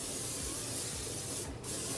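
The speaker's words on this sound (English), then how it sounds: "I'm gonna get my largest sheet pan and I'm gonna spray it with some spray." A steady hiss of aerosol cooking spray onto a sheet pan runs continuously for about two seconds, with a brief pause near the end before resuming.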